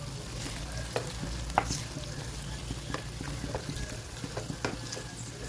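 Okra frying in a pan on a medium flame makes a low, quiet sizzle, with light clicks of stirring now and then and a steady hum beneath.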